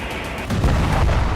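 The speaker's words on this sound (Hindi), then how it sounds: "तभी एक जोरदार धमाका हुआ।" A Russian KH-38 ML missile strikes and levels a building, heard as a heavy, close explosive boom that swells midway and then rumbles on alone, with no talking.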